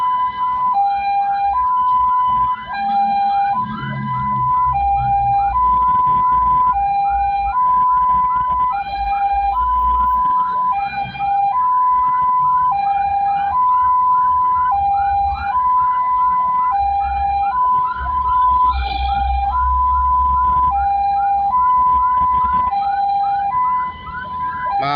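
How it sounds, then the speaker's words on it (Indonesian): Two ambulances wail with continuous sirens in a repeating two-tone pattern, escorted by a traffic police car with strobes through congested traffic; the sirens are loud and close for the whole stretch over a low road rumble. "di depan ada 2 mobil ambulan dengan pengawalan patwal polisi lalu lintas yang paling depan"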